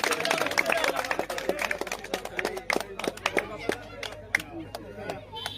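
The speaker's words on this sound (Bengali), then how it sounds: "সবাই হাতে তালি দেন, সবাই হাতে তালি দেন" An outdoor crowd at a road inauguration event claps hands. The claps are dense and irregular and taper into scattered slaps, with talk over them.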